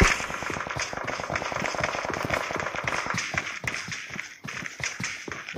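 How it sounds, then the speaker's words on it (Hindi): Rapid gunfire in the mobile battle royale game PUBG Mobile, a dense string of sharp cracks and bursts that fires almost without pause, close and loud, with a short lull near the end. "चल रहा है फायर।"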